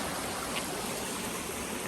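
A steady, soft hiss of flowing stream water, even and continuous at moderate distance, with no voices or other distinct sounds.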